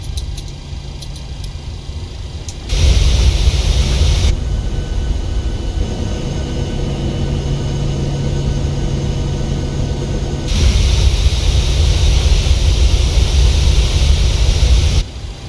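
Boeing 737-800 BBJ2 jet engines running in a flight simulator, a steady broadband roar that swells louder from about 2.5 to 4 seconds and again from 10 to 15 seconds, with a constant low hum underneath.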